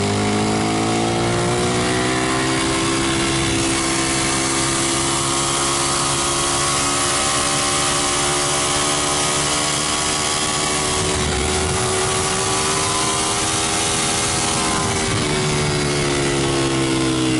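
A Ducati Streetfighter motorcycle engine runs loud and close under throttle, holding a sustained rising and falling drone with a dip partway through before climbing again.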